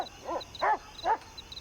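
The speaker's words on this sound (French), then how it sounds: "lâchez les chiens, c'est un ordre" Dogs released on command give three short, yelping barks in quick succession, fairly faint and somewhat distant against quiet background ambience.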